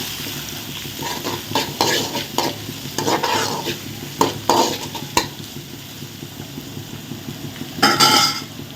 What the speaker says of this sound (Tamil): அது கூட ஒரு மூணு பச்சை மிளகா கருவுக்கு போட்டுக்கலாம் இது நல்லா வதங்கட்டும்